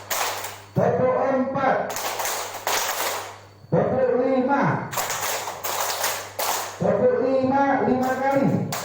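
A workshop group claps together in repeated bursts, each bursting loud and ragged before fading, with a voice speaking between and over the rounds.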